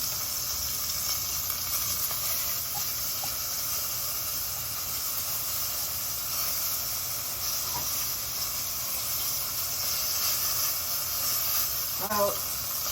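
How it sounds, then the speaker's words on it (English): Meat for chile verde sears in a hot pan with a steady, even sizzle and hiss throughout, close and continuous, with a faint clink of utensils near the end. "It's got a pretty decent sear on it, so I'm going to turn it over"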